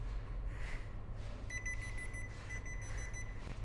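A walk-through metal detector at the boarding point of the M.S. Mayfair Nile cruise ship beeps, a thin steady electronic tone starting partway through and repeating in short pulses over a low ambient hum.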